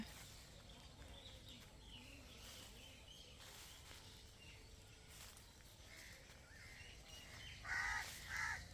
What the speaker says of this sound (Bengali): তোমরা শুনতে পাচ্ছ পাখির কিচিরমিচির শব্দ